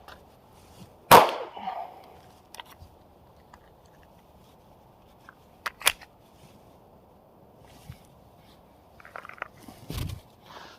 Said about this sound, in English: So this is how reloading from retention would work.